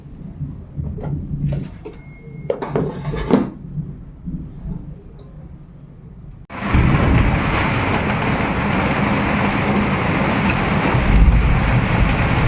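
Heavy rain with thunder in a village breaks in suddenly after quieter kitchen sounds, a dense, loud, continuous roar of downpour holding steady to the end, with deep rumbling beneath.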